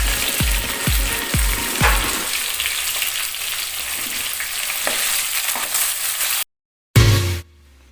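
Onions and beef frying together in a pot for homemade beef nihari, loud steady sizzle with a few stirring knocks early on, then a brief silence and a short final burst.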